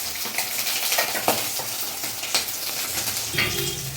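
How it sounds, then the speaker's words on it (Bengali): Fish frying in a pan in a home kitchen, a steady close sizzle running throughout with occasional utensil clinks and stirring scrapes, no voices. "ও গিয়ে মাছটা ভাজছে।"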